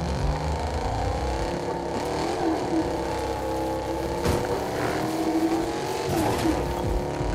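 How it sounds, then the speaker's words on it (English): A loud car in Fortnite gameplay roars continuously at close range, its engine tone rising and falling with occasional tire squeals and skidding. "This is a very loud car."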